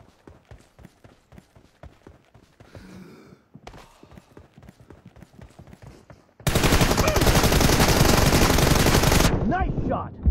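Gunfire rattles in the PUBG Mobile video game: rapid, evenly spaced shots at moderate level, then a loud, dense burst of sustained fire that ends abruptly, followed by a few faint trailing sounds.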